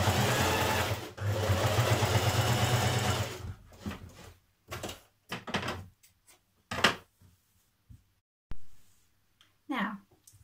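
A home sewing machine stitches a seam on a Simplicity 8418 bomber jacket, running steadily for about three seconds with a rhythmic whir. Quieter handling clicks and fabric rustles follow.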